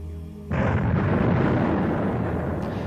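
A sudden deep boom erupts after a brief quiet lead-in and rolls on as a sustained, loud rumble, standing in for the Big Bang explosion of the universe.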